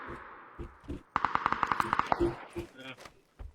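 A quick burst of automatic gunfire rings out in a shooter video game, about a dozen evenly spaced sharp shots, with players talking before and after.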